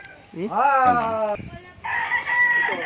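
A chicken a few months old gives a loud, close, drawn-out crowing call, followed by a second raspier call.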